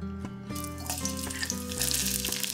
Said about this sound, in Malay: Tumis bawang putih, bawang merah dan halia yang hiris tadi.